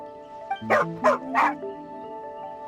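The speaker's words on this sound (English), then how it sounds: "Here, doggy. Good doggy." A dog in the Genshin Impact game gives three short, close whimpering yelps in a row, each a rising whiny cry with a bark-like edge, set over a steady low musical background.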